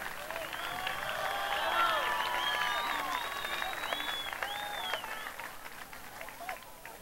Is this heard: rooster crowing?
no